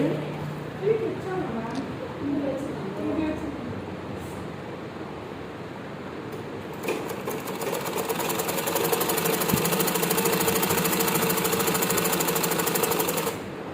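Someone talks over handling noise, then a sewing machine starts stitching a frock's fabric in a rapid, steady, close mechanical whir that runs through the second half.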